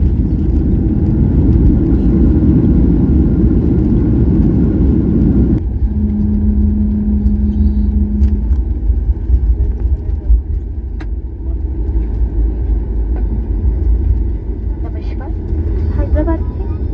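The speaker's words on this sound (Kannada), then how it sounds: "ಸೇಫ್ ಆಗಿ ಲ್ಯಾಂಡಿಂಗ್ ಆಯಿತು." A passenger airliner touches down on the runway at Rajiv Gandhi International Airport in Hyderabad, giving a loud, steady rumble of roaring engine and rolling noise that holds throughout, with a brief tonal whine partway through as it slows.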